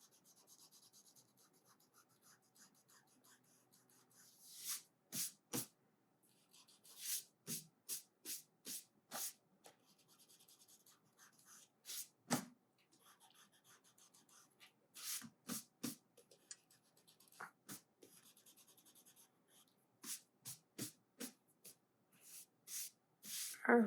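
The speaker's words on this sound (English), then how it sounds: "just go ahead and erase out your pencil marks" An eraser rubs out pencil marks on paper after drawing a daisy: bursts of short, close, scratchy strokes in quick rhythmic runs, separated by quiet pauses.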